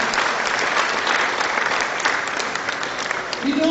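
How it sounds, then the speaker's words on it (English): An audience at a student's day celebration in Ekiti State claps steadily, a dense, even wash of many hands that fills the whole moment without pause. "Please clap first before I do"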